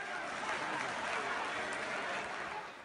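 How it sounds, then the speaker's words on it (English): Applause in the Egyptian parliament chamber, a steady, even wash of many hands clapping throughout, moderately distant and fairly faint, easing slightly at the end. "Applause filled the legislative chamber after that insult"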